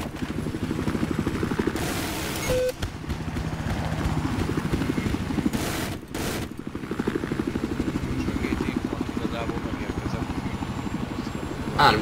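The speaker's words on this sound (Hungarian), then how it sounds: "itt a helikopter." Rotor chop and engine whine from a helicopter in the video game Battlefield 4, Siege of Shanghai map, steady and close under commentators' talk, broken by a couple of sharp bursts.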